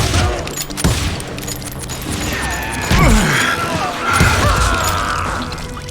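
Gunfire from the Western shooter Call of Juarez Gunslinger: a loud burst of shots and crashes near the start, then a few heavier blasts and rattling mechanical noise around the middle, all over a dense game soundscape.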